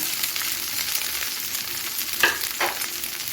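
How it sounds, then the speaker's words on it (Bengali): Flattened rice (chira) frying in ghee on low heat in a pan where cashews were fried, a dense continuous sizzling hiss with a couple of brief stirring scrapes near the end. "এখন আমি গ্যাসটা লোটে রেখে চিরাটা ভেজে ভেজে নেব"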